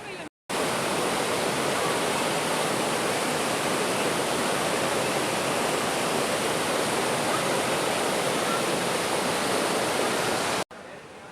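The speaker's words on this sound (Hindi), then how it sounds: "मैं आपको यहाँ पे पानी का फ़्लो दिखाऊंगा। फ़्लो कम है" Water pours steadily at the Banganga bathing ghat river on the Vaishno Devi route, a loud, dense, continuous rushing that starts abruptly after a short gap and cuts off near the end, with no talk over it.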